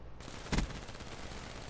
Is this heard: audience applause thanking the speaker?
no